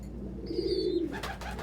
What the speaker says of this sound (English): I know this, precious Elliot, but you're full of seeds. You need to go over there and eat more seeds